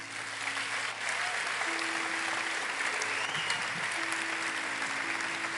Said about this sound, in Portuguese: A igreja pode reconhecer com uma salva de palmas?